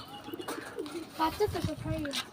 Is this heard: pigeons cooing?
yes